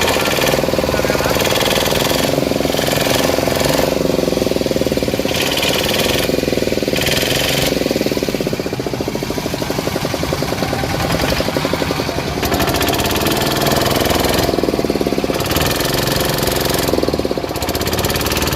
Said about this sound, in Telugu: చూసారు కదా, మా బోటు బయలుదేరింది